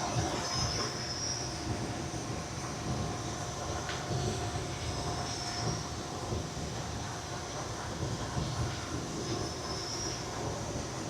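Sawmill blade cutting through a log, a steady loud grinding and rumbling drone that holds evenly throughout with faint high squeals over it.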